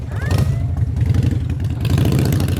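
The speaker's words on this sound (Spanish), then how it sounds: "Es la típica Harley, y eso que esta no es muy grande, ¿eh? Pero tiene el sonido característico y aquí está." A small Harley-Davidson motorcycle rumbles close by with a deep, steady, pulsing engine throb that swells slightly as it approaches, loud and continuous throughout.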